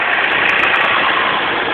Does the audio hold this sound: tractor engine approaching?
yes